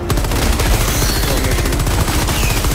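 Rapid automatic gunfire in the video game Helldivers 2, a dense, loud burst of shots fired nonstop throughout, close and unbroken.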